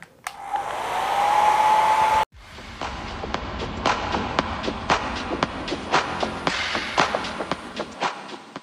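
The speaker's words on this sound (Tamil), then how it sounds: "ஸோ நல்லா ஹேர் ட்ரையர் யூஸ் பண்ணி கொஞ்சம் ட்ரை ஆக்கிடுறேன்" A hair dryer blowing on hair at home, loud and rising for about two seconds, then cutting off abruptly, followed by a run of soft taps and light thuds nearby.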